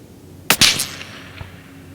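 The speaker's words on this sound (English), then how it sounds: "Firing." A long-range rifle fires at an outdoor range: one sharp, loud report with a short echoing tail, followed by a faint distant impact about a second later.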